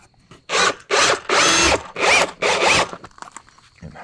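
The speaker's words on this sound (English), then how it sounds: "I'm going to put some screws into these boards" A power drill drives screws into wooden boards being prepared for a chainsaw mill. Five loud, close whirring bursts come in quick succession, each under a second long, with short pauses between them.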